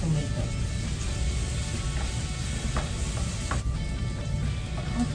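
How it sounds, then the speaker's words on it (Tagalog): Garlic browning in a hot pan, a close, constant crackling sizzle with faint stirring clinks, no talking over it. "hintayin muna natin mag-brown ng bawang"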